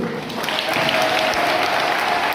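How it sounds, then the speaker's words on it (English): A crowd claps together in sustained applause at an inter-school quiz competition, loud and even, with a faint tone running beneath. "Can we have a big round of applause to the both?"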